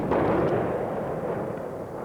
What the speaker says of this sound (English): Under the shell fire, the Chechen fighters remained astonishingly calm.